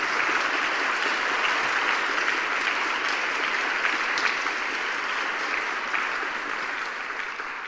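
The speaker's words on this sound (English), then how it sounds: "please give a huge round of applause to all of our new Seneca High School NJ20101 Kitty Hawk Air Society members" An audience applauds new Kitty Hawk Air Society members, Seneca High School students, at an AFJROTC awards ceremony. The clapping is dense and steady, filling the room for the whole stretch and easing slightly toward the end, with no talk over it.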